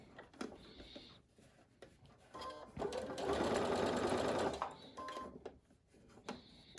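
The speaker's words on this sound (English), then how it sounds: "get that fabric able to smoothly flow through your sewing machine" A sewing machine stitching cloth mask fabric runs in bursts, whirring steadily for a couple of seconds in the middle with softer mechanical ticks and fabric handling before and after.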